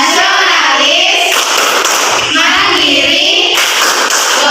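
Children in a classroom clap in a steady rhythm while chanting together in unison. The claps and voices are loud and close throughout.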